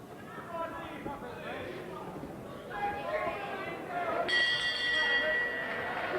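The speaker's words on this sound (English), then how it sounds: "So the bell to end round 7" At a 1991 boxing match, the bell sounds to end round seven as a bright metallic ring cutting through the arena crowd's chatter and a commentator's voice.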